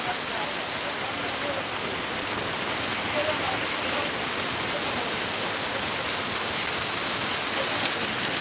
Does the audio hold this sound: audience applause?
no